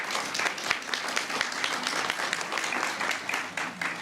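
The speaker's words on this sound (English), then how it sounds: "Please extend one more round of applause acknowledging the tremendous work and dedication of all of these Mary Frances Early College of Education candidates." Graduation audience applauding education college candidates at a university campus ceremony, a steady sustained roar of many hands clapping at moderate distance, even and unbroken throughout.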